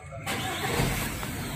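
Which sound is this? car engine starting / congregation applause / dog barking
car engine starting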